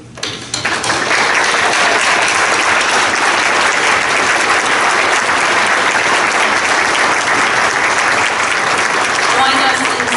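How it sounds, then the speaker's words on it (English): A church congregation breaks into loud, sustained applause that swells quickly and holds steady for about ten seconds, dense and close, filling the sanctuary. "it is our turn to clap for you."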